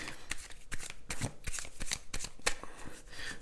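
Tarot cards being shuffled and drawn by hand, a quick run of crisp riffling flicks and slaps at close range, fairly quiet and with no talking.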